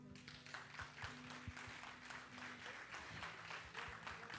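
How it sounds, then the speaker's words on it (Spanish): Very quiet applause from a church congregation, scattered clapping heard faintly and at a distance over a low steady hum. "Denle un aplauso al Señor"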